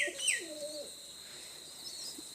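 A pigeon gives a soft, low cooing call near the start, mixed with a few thin chirps. It is faint and short, and the rest is a quiet, steady background.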